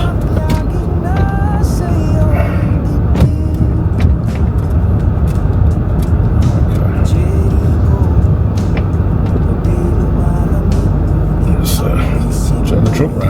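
Heavy 2.5-ton truck pulling in to park, its diesel engine rumbling low and steady throughout at close range, with occasional brief hiss and clatter over the idle and talk in the background.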